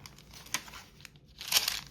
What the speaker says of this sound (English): This is some tracing paper.